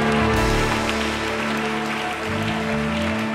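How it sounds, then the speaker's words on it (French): A church congregation applauds and acclaims Jesus during a worship service, dense continuous clapping and cheering over a sustained musical backing, loud and close throughout. "quelqu'un acclame Jésus-Christ."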